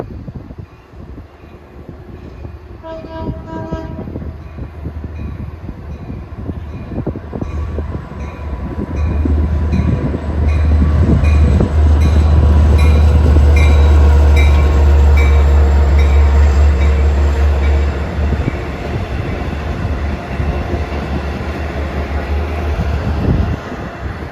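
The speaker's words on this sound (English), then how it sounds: "here comes 652, Jamaica Port Jeff, 206" Long Island Rail Road train 652, Jamaica to Port Jefferson, moving slowly on track 3, approaches and passes near, building to a loud heavy rumble with wheel squeal and a brief horn-like tone early on, then easing slightly.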